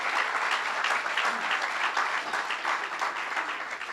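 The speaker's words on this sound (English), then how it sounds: "Let's give them a strong round of applause." A Bronx audience breaks into sustained applause at a governor's event, dense clapping holding steady from start to finish with no pause.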